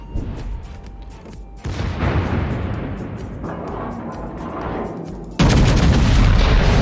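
Naval secondary battery gunfire in World of Warships, a French battleship Strasbourg firing a dense, rumbling series of booms that swell louder near the end, continuous and close without talk.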